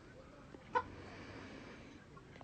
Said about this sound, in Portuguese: Os galinhas comendo aí, ó